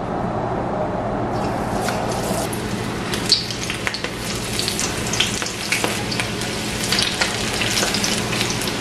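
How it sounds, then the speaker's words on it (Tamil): Onion pakoda sizzles and bubbles in hot oil as the batter goes in, a dense, steady crackle with sharper pops and spits scattered through it, loud and close throughout. "இப்படி கையில் எடுத்துட்டு இப்படி எண்ணெய்க்கு போட்டு விடுங்க"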